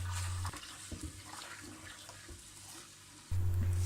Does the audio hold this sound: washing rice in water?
yes